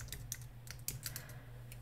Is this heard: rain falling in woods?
no